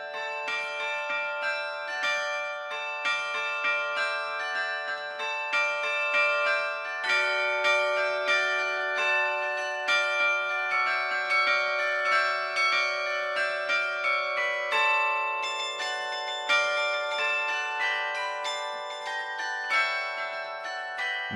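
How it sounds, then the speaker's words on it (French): Church bells ring continuously in a melodic carillon peal for the Christmas nadalet tradition in the Tarn, France, many overlapping tones sounding clearly and steadily for about twenty seconds. "le nadalet qui consiste en des sonneries de cloches et des concerts que l'on donne au moment de Noël"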